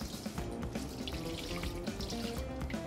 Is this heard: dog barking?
no